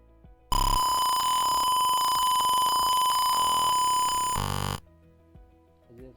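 An automatic titrating bot gives a single long, loud electronic beep, a steady tone that holds for about four seconds and then cuts off, leaving faint background sounds.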